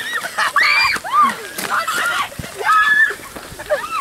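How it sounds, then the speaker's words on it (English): Water from a field sprinkler splashes and patters over people walking on a Duke of Edinburgh expedition, in bursts, with excited shrieks and voices throughout. "getting drenched by water from a sprinkler in a field"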